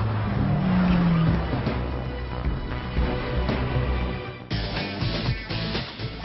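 BMW car engine growling loudly and steadily, with a rough low rumble, a shift in tone partway through and a faint squeal of tires.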